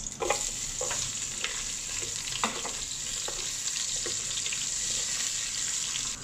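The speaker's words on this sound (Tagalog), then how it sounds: "So, pwede na natin isunod yung sibuyas." Onion and garlic sauté in a hot pan with a steady sizzle, punctuated by repeated spatula scrapes and stirring clicks at an irregular rhythm, close and fairly loud, with no voices.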